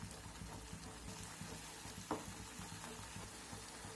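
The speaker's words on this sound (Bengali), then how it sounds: "এখন এটাকে এবার নেড়েচেড়ে একটু জলটা শুকিয়ে নেব। তো এইভাবে অনবরত নাড়াচাড়া করতে হবে।" Carrot paste is stirred in a pan to cook off its water, giving a faint, steady low sizzle with soft scraping and one brief clink midway.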